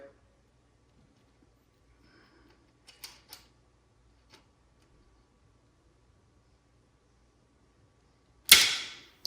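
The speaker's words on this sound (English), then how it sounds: "And do a nice clean cut," Cable for an Axum dropper post being cut: near-silence with a few faint handling clicks, then one sharp, loud snip near the end.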